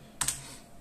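Arrow keys pressed on a computer keyboard while navigating PC BIOS settings, two quick close clicks in succession, near and fairly crisp against a quiet room hum.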